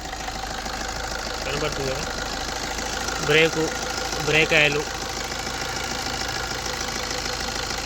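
A 2009 Maruti Swift VDI diesel car engine idles with a steady, even rumble throughout, while someone talks over it in a few short bursts.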